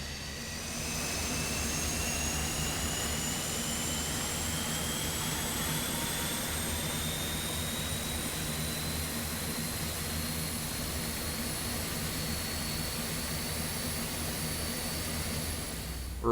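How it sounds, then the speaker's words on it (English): Airbus A400M turboprop engine spooling up at start in Microsoft Flight Simulator 2024: a steady, loud broadband roar with a low drone and slowly rising whining tones, continuous and alone throughout. "the engine is starting."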